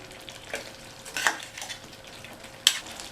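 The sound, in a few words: stirring baby potato gravy after adding garam masala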